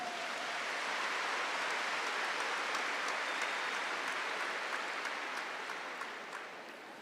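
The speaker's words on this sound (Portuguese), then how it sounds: "Aplaude essa palavra." Applause from a church congregation at a sermon by Frei Gilson, heard as dense, sustained clapping like a wash of rain that holds steady and then slowly fades toward the end.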